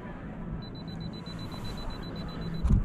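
A camera's self-timer beeps as a steady run of short, evenly spaced high tones at moderate level over outdoor street background noise, ending with a louder thump.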